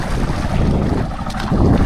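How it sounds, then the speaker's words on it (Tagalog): Wind gusting at sea, roaring steadily as heavy buffeting against the microphone with a low rumble throughout, no talking. "Mahangin-hangin na"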